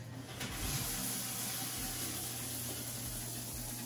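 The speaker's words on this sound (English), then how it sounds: "I'll show you what the shower is like." Shower spraying pumped rainwater from a home harvesting system, a steady broadband hiss of falling water that runs continuously and fairly loud with no talk.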